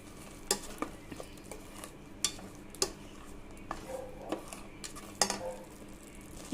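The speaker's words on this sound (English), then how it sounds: "So I'm going to saute this for 2 minutes till the oil separates." Chicken kabab gravy sautéing in oil in a pan: a spoon clinks and scrapes at irregular intervals over a faint, continuous sizzle.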